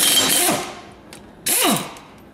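Lug nuts come off a car wheel during a brake job with two creaking, ratcheting turns, each starting with a loud burst and fading, about a second apart, close and with no speech.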